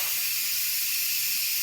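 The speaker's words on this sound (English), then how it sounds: "See how much steam is coming out of there? That's a lot of steam." Steam vents from an Instant Pot pressure cooker in a loud, steady, unbroken hiss that holds at constant strength throughout.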